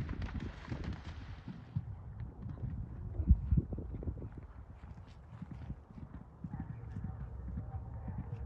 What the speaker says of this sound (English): Are we out of the way of the next horse?